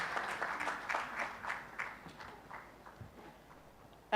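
An awards ceremony audience applauds, strongest at first and gradually thinning and fading. The applause ends with a sudden loud noise at the very end.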